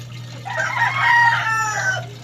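A hen gives a drawn-out, throaty clucking call, close and fairly loud, rising and then trailing off, with a low steady hum underneath.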